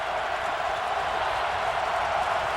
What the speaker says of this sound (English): This crowd ready to break into a frenzy.